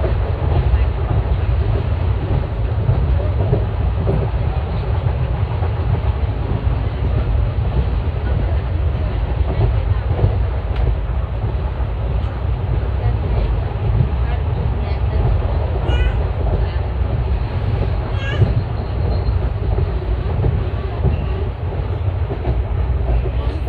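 Koyna Express rolls along the rails, heard from on board as a steady, loud low rumble with faint rhythmic clatter from the wheels and carriage, continuous for the whole stretch.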